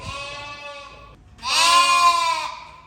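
A sheep bleating at a park, two loud, close drawn-out bleats, the second stronger and wavering, with no talking over them.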